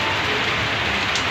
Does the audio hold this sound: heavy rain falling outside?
yes